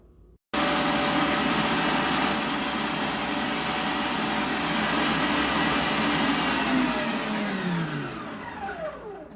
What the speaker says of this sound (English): we just gonna start whipping them until it start becoming frothy